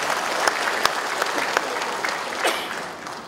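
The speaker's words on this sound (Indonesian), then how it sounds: "Tepuk tangan untuk warga Bandung." Steady audience applause fills a municipal coordination meeting in Bandung with neighbourhood, PKK and village officials, a dense crackling wash of many hands with a few sharper claps standing out, moderately loud throughout.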